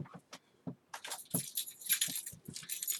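A bunch of keys jangles close by, with bright metallic chinks in short irregular bursts and brief pauses, growing busier toward the end, used as a makeshift cutter while opening a subscription box; no talk.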